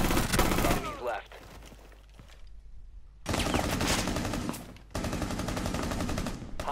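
Gunfire in the Rainbow Six Siege video game during the Para Bellum operation: two sustained, loud strings of rapid automatic fire separated by a brief lull.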